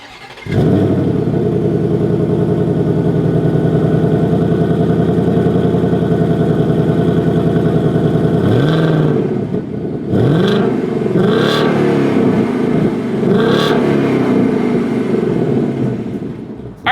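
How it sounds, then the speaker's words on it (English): A 2026 Ford Mustang GT with an active valve performance exhaust idles loud and close with a deep steady rumble, then revs sharply several times in quick blips. "As always, here is that exhaust clip."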